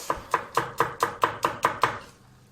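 Two garlic cloves are chopped on a board with eight crisp, evenly spaced knife strikes in quick rhythm, close and distinct, then trailing off into quiet.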